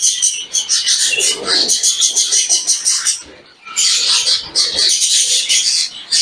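Dense, continuous chirping and chattering of budgerigars, bright and close, with a brief dip before the twittering resumes just as busily.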